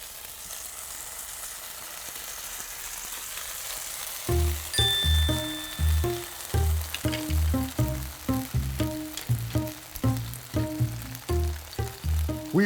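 Deodeok root grills in a spicy marinade with a constant sizzle. Partway through, a run of rhythmic knocking and clattering thumps joins it and continues to the end.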